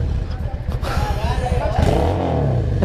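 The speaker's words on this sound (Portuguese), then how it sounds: "Olha a marcha lenta dessa moto" A 2003 Yamaha Drag Star 650 motorcycle engine idling up close, a loud low rhythmic thumping that gets rougher and revs briefly, with someone talking over it.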